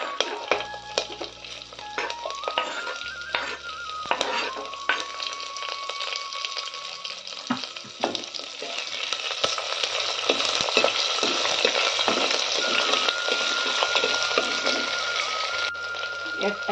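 Onion and green chili frying in a pan for pulao, a bright, steady sizzle that grows fuller over time, with a voice talking over it at times.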